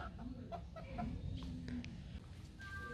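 Several hens cluck in short, scattered calls close by, over a low background rumble.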